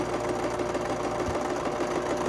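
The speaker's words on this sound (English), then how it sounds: "And sew a 1/4 inch seam." Sewing machine stitching a quarter-inch seam on a cotton and lace quilt block, a steady close mechanical whir with a fast even rhythm throughout.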